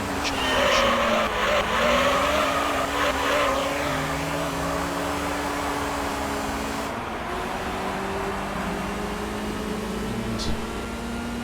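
Race cars in the Gran Turismo 3: A-Spec video game, including Honda Accords and an Integra, their engines whining loudly and steadily with pitch shifts as they drive, accompanied by brief tire squeals.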